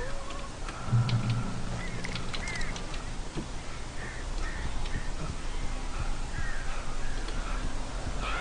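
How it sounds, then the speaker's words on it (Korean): Crows cawing repeatedly in the Alan Wake video game, a flock of harsh calls scattered across a dense, noisy ambient bed, with some calls near and others farther off, no speech. "새가 한가득?"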